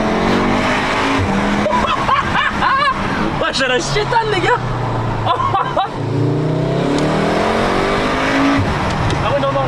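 A Volkswagen Golf 7R with a stage 1 tune of about 390 horsepower accelerates hard, engine revving up loudly through gears with exhaust pops and crackles, heard up close while someone talks excitedly over it.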